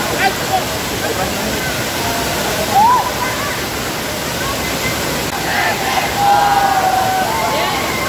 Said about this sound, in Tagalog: yung nasa likuran natin, yung napakalakas na falls